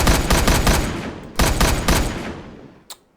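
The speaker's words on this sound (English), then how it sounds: "The M16 actually has multiple rates of fire." M16 rifle in the video game Oranje 44: rapid automatic bursts of gunfire, loud and close, with a short pause between two volleys and a brief metallic click near the end, with no talk.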